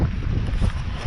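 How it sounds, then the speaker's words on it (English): Wind blowing hard into the microphone outdoors while hunting, a loud continuous low buffeting rumble. "I don't know how well you can hear me with the wind blowing"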